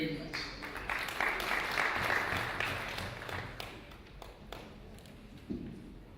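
Applause from the audience at a cooperatives registry system presentation, broad clapping that swells loudly early on and slowly thins out, with scattered voices underneath.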